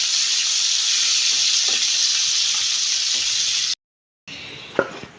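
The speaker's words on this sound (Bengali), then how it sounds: "তাই আর কি হালকা করে ভেজে নিতেছি।" Fish taken from the fridge fries lightly in hot oil, giving a steady close sizzle and hiss, then a brief cut to silence followed by quieter sizzling and a stirring clatter.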